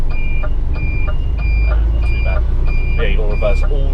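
Beeper on a reversing DAF truck with a manual gearbox in London, six evenly spaced high pulses repeating over a loud, steady diesel rumble, with a few voices talking underneath.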